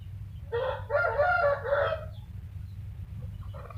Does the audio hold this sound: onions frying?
no